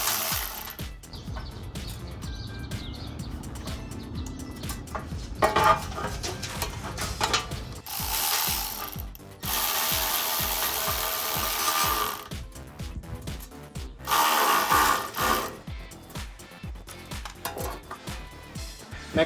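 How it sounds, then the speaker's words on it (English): A 5/16 tool tightens a cold air intake coupling on a 2015-2017 Mustang V6, with several bursts of rapid ratcheting and whirring between quieter metallic handling noises, close up and without talk. "And you'll tighten this down using a"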